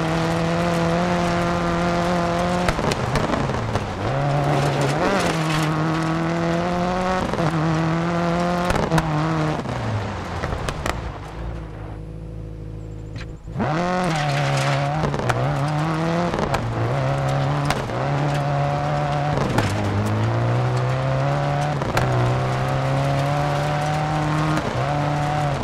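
A rally car in DiRT 4 slides on a loose surface, its engine droning loud and close with rising and falling revs, wheels spinning and tires skidding, with one brief lull before the engine roars back.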